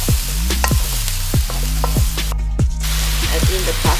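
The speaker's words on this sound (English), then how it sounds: "Stir and fry it for a minute." Onion and carrots stir-frying in a pan, a continuous sizzle broken by repeated scraping strokes of a utensil, close and fairly loud with no talking.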